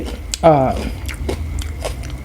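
A crunchy bite into spicy chicken feet salad, with one loud crisp crunch up close followed by softer chewing, and a voice talking over it.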